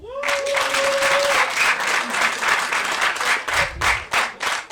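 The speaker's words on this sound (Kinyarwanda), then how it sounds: "Katubanze twikomera amashyi abantu bishyuye kugira ngo mbabare." A comedy show audience bursts into applause, a dense wash of many hands clapping that swells after a short spoken shout, then thins into scattered claps toward the end.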